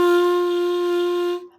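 An open G on a small beginner baby clarinet, played with the hands hovering over the keys, sustained as one steady, bright tone for about a second and a half, then cut off, with no voices.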